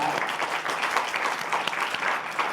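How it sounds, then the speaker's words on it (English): Dense audience applause filling an auditorium at a council member's State of the District address, continuous close clapping from many hands. "Let's give a round of applause for that."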